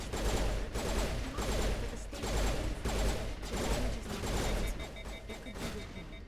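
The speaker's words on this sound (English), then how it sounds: "How the hell did my pistol overheat?" Pistol fire in the video game Mass Effect Legendary Edition, a rapid run of sharp, punchy shots in bursts layered over a dense, busy game soundscape.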